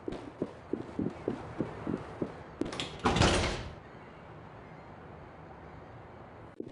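A door in the SWAT 4 video game opens after several soft rhythmic footsteps: a short rushing, scraping swell of the door moving, then a quiet room tone.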